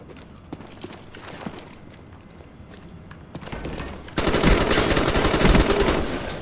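Galil rifle fire in Call of Duty: Black Ops, sharp shots first scattered at a distance, then a dense loud burst of rapid automatic fire with clattering impacts near the end.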